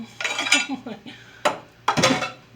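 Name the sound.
mixing a cranberry salad mixture in a bowl with a spoon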